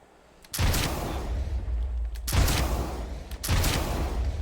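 Rocket explosions blast in Team Fortress 2 as a player rocket jumps, three loud booms each followed by a roaring, fading rush, with no talk.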